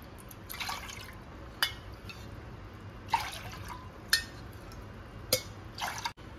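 Water trickles and drips intermittently as four cups are measured into a pot for black kavuni rice pongal, with a few sharp clinks of a vessel and splashy bursts, fairly close and quiet, no voices.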